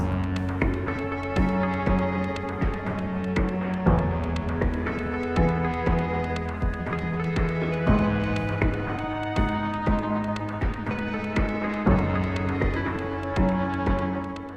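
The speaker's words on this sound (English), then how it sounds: "And more importantly, I've added a B melody," Granular synthesis track produced in Ableton with a new B melody layered on top, sustained chords and bass under a moving melodic line, continuous rhythmic pulses and clicks throughout, no speech.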